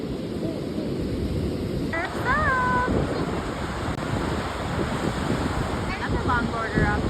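Ocean waves wash in at Neshotah Beach on Lake Michigan in Two Rivers, Wisconsin, a constant broad roar of surf mixed with wind buffeting the microphone, with brief bird-like chirps partway through.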